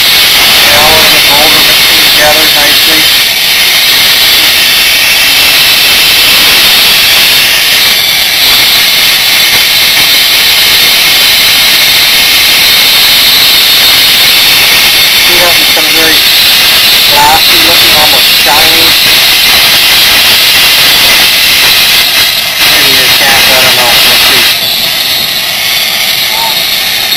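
A gas torch roars with a steady hiss while melting gold and alloy together, holding constant throughout, with a person talking at intervals over it.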